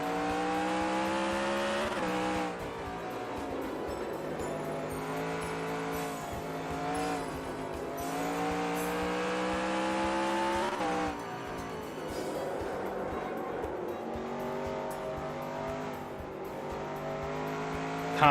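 A race car engine drones and revs continuously in a sim racing game, the pitch rising and falling through gear changes, with tires squealing. Faint and steady with no talk over it.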